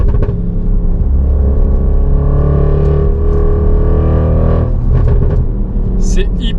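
A 730 hp Audi RS6 C7 estate on winter tyres accelerates hard, its engine note rising and droning loudly and close, with a brief higher whine near the end.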